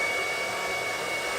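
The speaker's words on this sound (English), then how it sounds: "I'm going to turn on my blow dryer just on a really light heat, a really light setting" A blow dryer runs on a very light heat setting, drying hair after a first wash; a steady, continuous airy whoosh holds at an even level throughout with no talking.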